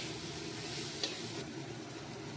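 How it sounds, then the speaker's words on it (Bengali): A spatula stirs boiled bitter gourd in a pan, a steady close sizzle with soft scraping and one brief clink, continuous throughout with no voices. "এবার আমি খুন্তির সাহায্যে একটু নেড়ে চেড়ে নিলাম"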